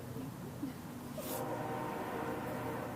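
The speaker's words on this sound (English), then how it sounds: "That's a train." A distant train rumbles along the tracks near a cemetery in Fort Langley, faint and continuous, with soft tonal squeals drifting over the steady low noise.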